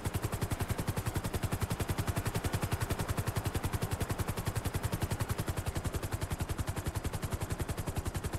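A helicopter flies in GTA 5, its rotor giving a fast, steady, loud chop that runs unbroken and alone throughout.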